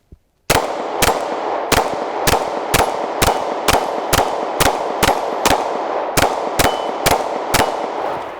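Rapid string of Glock 23 pistol gunshots fired on a shooting range with an ADE red dot sight mounted, about fifteen sharp, loud cracks at a steady, fairly quick pace with no talking between them.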